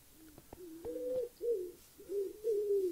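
A Minecraft pigeon gives a string of warbling coos, five or so, near and moderately loud, opened by a couple of brief clicks from the game.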